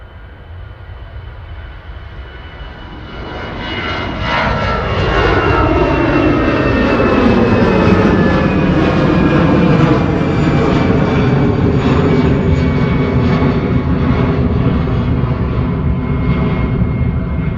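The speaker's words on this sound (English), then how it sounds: "I better start rolling because Ryanair's on approach." A Ryanair jet on approach to Manchester Airport roars in loud and close, its engine noise swelling over several seconds into a sustained, rumbling whine with a faint descending tone.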